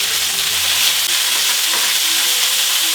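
Steak and onions frying in a pan make a loud, dense, steady sizzle that hisses on without a break.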